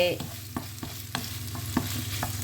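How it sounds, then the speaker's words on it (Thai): Pork being stir-fried with wild garlic flowers in a hot pan, with regular scraping strokes of a spatula over a continuous sizzle, close and moderately loud. "ใส่หมูบักลายเลยบ้านพี่น้องเอ้ย ผัดหมูใส่"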